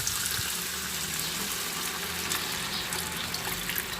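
Water is poured into a pan of peppered chicken being cooked with petchay, giving a steady, even hiss of pouring and sizzling that carries on without a break, with no one talking.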